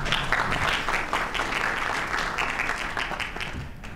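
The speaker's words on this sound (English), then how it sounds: "So a round of applause again, please, from B2B Marketing Lead for PayPal, Sonal S" An audience claps after a customer acquisition master class presentation, a dense, steady burst of applause that stays loud throughout and tapers slightly toward the end, with no voices on top.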